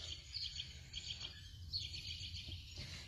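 Robins and blue jays chirp in short, high, faint calls outside a house, a few scattered bursts over steady low background rumble.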